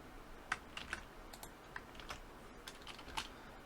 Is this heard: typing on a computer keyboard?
yes